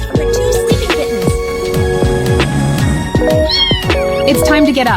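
Several cats meow repeatedly, loud and close, with overlapping drawn-out cries over a steady background of music and voices.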